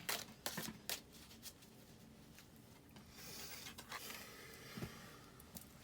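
A large deck of cards being shuffled one half at a time, soft riffling and shuffling bursts, close but quiet, with a couple of separate flurries.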